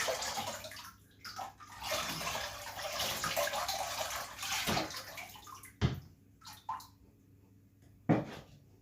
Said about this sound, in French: je vais remplir tout l'intérieur en faisant couler l'eau depuis le sommet là